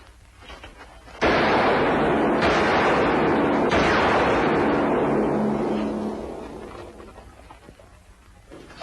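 A gunshot in a western film rings out sharply and then rolls into a long, loud, booming blast that fades away over several seconds, with no talking.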